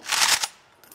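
A ceremonial rifle volley at an anniversary commemoration of the Soviet crime near Smolensk cracks out as one sharp, loud burst lasting under half a second, then a quiet echoing tail.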